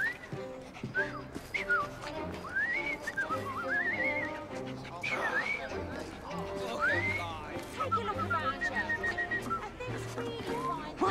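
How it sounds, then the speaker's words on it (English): A man whistles in the Victorian London video game Assassin's Creed Chronicles, a wandering tuneful whistle with swooping rising and falling notes, mixed with background sounds and nearby talk. "I've just learned to whistle."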